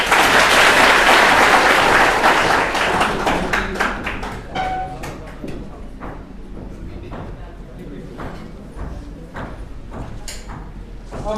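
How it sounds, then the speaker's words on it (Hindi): A classroom group breaks into dense applause for a few seconds, then it thins into scattered individual claps and taps, with voices. "तालियां होनी चाहिए।"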